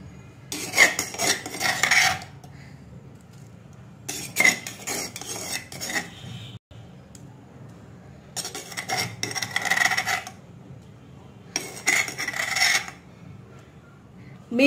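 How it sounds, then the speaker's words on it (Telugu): Pounded spice paste being stirred into buttermilk in a metal vessel, four bursts of spoon scraping and clinking against the sides separated by short quiet pauses. "ఇది ఇప్పుడు మనం మజ్జిగలో మిక్స్ చేసుకుందాం"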